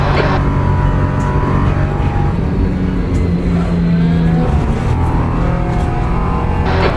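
A Ginetta LMP3 prototype race car engine in the racing game Le Mans Ultimate at Spa-Francorchamps, a loud, continuous droning roar that rises and falls slightly in pitch throughout, with no speech.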